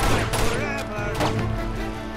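Pistol shots in the action game Uncharted 2 Among Thieves Remastered go off as a few quick, loud cracks over a dense bed of game music and effects.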